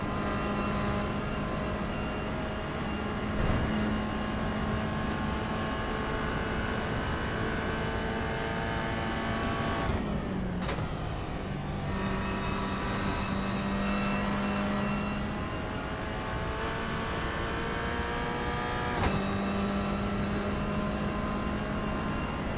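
Toyota GR86 race car engine at full throttle in a racing video game, a loud continuous high-pitched drone held flat out, with brief dips in pitch at a couple of points as the car runs through the course.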